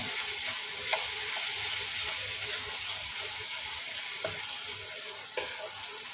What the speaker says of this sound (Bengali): আমার কাছে এই ম্যাশারটা নেই, ওই জন্য হাতা দিয়ে করছি।